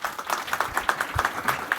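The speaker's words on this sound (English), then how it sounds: "Well, round of applause." An audience gives a round of applause at an education talk, a steady patter of many hands clapping at moderate loudness, with a few louder claps standing out.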